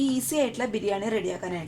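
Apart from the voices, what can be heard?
No everyday noises stand out.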